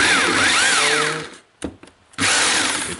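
A Makita HR2611FT rotary hammer runs in hammer mode with a loud, steady motor whine and percussive rattle, cuts out briefly with a couple of short bursts, then starts again at full speed.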